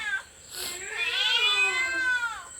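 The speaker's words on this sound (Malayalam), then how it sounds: "പൂച്ച ചോദിക്കുന്നുണ്ട് കേട്ടോ" A cat gives one long, drawn-out meow close by, rising and wavering before trailing off, with a brief faint noise just before it.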